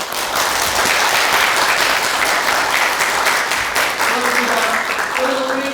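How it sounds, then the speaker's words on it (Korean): A lecture audience at an invited talk by a presidential hopeful breaks into loud, sustained applause with cheering, dense clapping filling the room throughout, and a voice speaking briefly near the end. "여러분의 뜨거운 환호와 박수로 시작하겠습니다"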